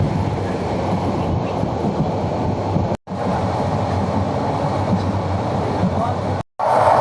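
A passenger train rumbles and rattles steadily from inside a moving carriage, a loud, dense, continuous roar with two brief drops to silence.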